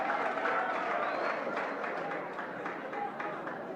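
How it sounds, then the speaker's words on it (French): A crowd applauds for the president of the DR Congo, Félix Tshisekedi, a dense wash of clapping with cheers and voices mixed in, fairly loud at first and easing off slightly. "S'il vous plaît, est-ce qu'on peut applaudir pour le président?"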